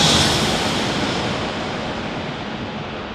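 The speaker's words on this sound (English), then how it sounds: "Oh, got an arrival. JetBlue from Boston." A JetBlue jet arriving at San Diego airport gives a loud, steady wash of engine roar that fades gradually over a few seconds, with no voices.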